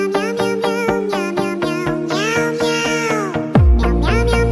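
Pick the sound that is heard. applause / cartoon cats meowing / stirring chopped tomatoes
cartoon cats meowing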